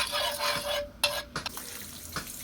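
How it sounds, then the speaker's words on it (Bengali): Oil goes onto a hot tawa griddle and gives a steady, close sizzling hiss, broken by a couple of short clatters of a utensil against the pan. "তাওয়াতে প্রথমে তেল দিয়ে নিলাম।"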